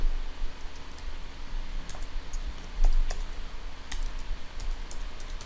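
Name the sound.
typing a command on a computer keyboard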